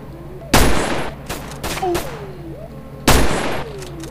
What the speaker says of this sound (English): He just kept shooting.